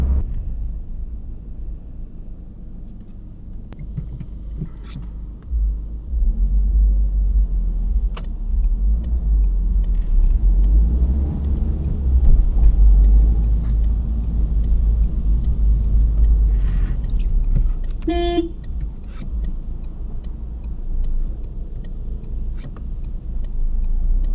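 Inside a Citroen C-Elysee 1.6 HDi Exclusive driving through heavy rain near Bursa, a deep, steady road and engine rumble swells and holds, with a brief electronic chime partway through.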